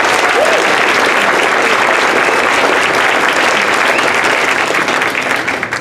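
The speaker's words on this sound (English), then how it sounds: "Give her a round of applause for what she's done." Loud, sustained applause from an audience, dense clapping filling the whole stretch and tapering slightly at the end.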